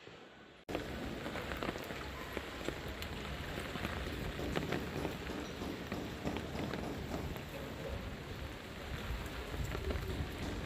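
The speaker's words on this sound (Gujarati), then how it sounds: "વરસાદ પણ હવે કારવાર ચાલુ થયો છે." Rain falls as a dense, steady hiss of drops on surfaces. It begins after a brief quieter moment and holds evenly throughout, with no clear voices.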